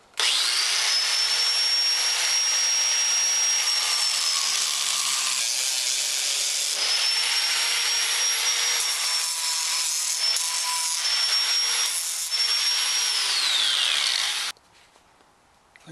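A power saw grinds through an old metal shaft on an ice auger in a long, loud continuous cut, pitch dipping and rising with the load, then stopping abruptly near the end.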